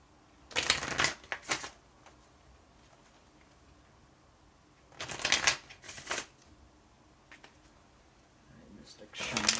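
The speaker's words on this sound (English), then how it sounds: "Gonna get these cards shuffling." Tarot cards are shuffled in three quick riffling bursts, close by, separated by quiet pauses, with a soft voice briefly heard in between.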